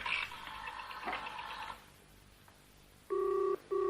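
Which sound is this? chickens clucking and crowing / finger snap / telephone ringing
telephone ringing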